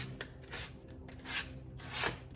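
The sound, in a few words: lightly sanding furniture with 500 grit sandpaper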